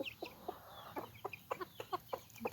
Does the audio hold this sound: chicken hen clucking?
yes